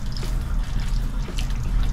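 Water runs and splashes while soap is rinsed out of running shoes, a steady close wet gurgle and trickle with no talking.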